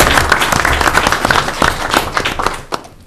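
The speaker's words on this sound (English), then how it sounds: "I'd like to give your parents a round of applause" An audience at a town board of selectmen meeting applauds parents, with dense clapping throughout that tapers off near the end.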